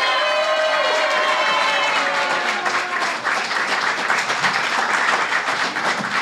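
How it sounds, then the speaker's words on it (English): A crowd at a stand-up comedy show gives a warm round of applause as the comedian is introduced, a dense burst of clapping with some cheering that stays loud and steady for several seconds. "Now please give a warm round of applause for Karl Hamburger."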